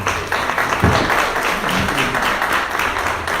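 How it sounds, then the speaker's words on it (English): Audience applause at a printing presentation, a dense, loud, close burst of many hands clapping that holds steady throughout, with no talk. "another round of applause for Monty and all of the great information"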